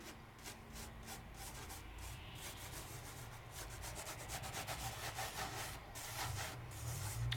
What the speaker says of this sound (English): And I'm gonna just start rubbing it around that glue.